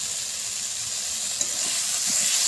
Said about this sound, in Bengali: আবারও নেড়ে নিচ্ছি। আলু ফুলকপিগুলো ভালো করে কষাতে হবে।